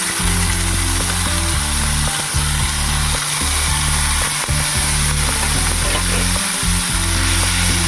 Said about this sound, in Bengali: পেঁয়াজকে আমি পেস্ট করে নিয়েছি সেই পেঁয়াজটা এবার তেলের ওপর দিয়ে দেবো